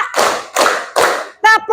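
Children in a classroom clap three times in unison on a teacher's count, sharp loud bursts evenly spaced, followed by a short voiced sound.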